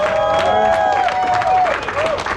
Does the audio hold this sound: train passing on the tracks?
no